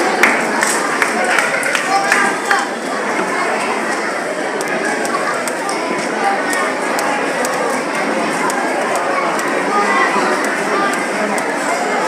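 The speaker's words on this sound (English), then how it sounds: "Please give a round of applause for Naomi." A school audience at a Teachers' Day event claps, a dense sustained patter of many hands mixed with crowd noise and voices, steady and fairly loud throughout.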